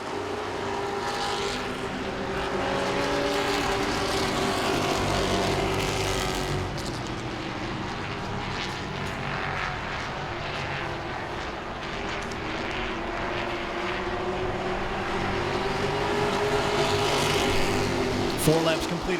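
Grand Stock race cars roar around Langley Speedway during a race, a steady dense wall of engine noise with rising and falling passes throughout, heard from trackside and continuous for the whole stretch.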